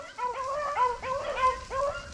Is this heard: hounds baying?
yes